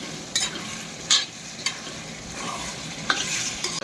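Potatoes and cauliflower fry in oil in a karahi with a continuous sizzle. Repeated stirring scrapes and spatula taps cut through it at irregular intervals, close up and with no voices.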